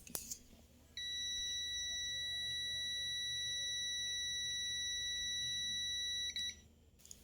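A multimeter continuity beep sounds for about five seconds while testing switch pins, steady and high-pitched, then cuts off; quiet background before and after.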